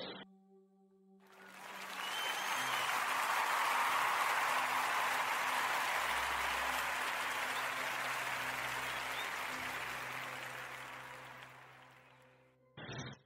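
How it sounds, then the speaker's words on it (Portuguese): Sustained applause from a group on a Portuguese radio show swells in, holds steady and dense for about eleven seconds, then fades out, with no talking over it. "quero pedir a toda a gente uma salva de palmas"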